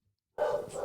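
A dog barks once partway through. The single bark sounds a little muffled and fairly close, and it follows a moment of near silence.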